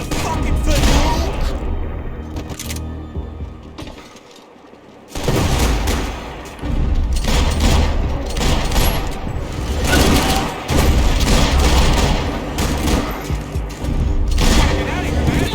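Heavy gunfire and booming blasts in Max Payne 3, loud repeated volleys with a brief lull midway before the shooting resumes, with a voice shouting over the action.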